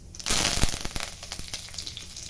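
Hot oil in a kadhai erupts into a sharp sizzle while cooking Maharashtrian dahi kadhi, a loud crackling burst that settles into scattered pops and spits, heard alone and close.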